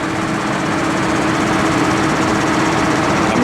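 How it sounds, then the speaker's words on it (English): A tractor drives a modified slurry spreader through a PTO driveline linked to a 1940 Ford transmission, a loud, steady engine drone with constant mechanical rumble and no pauses. "basically now the tractor has enough horsepower to run the spreader"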